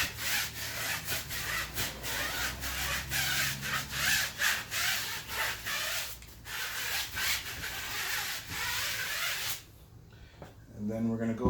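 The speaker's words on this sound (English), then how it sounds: "scrub the outer wall" A brush scrubs the outer sidewall of a tire taken off its rim, in fast rhythmic back-and-forth strokes that run steadily, then break off into near silence before a short final burst.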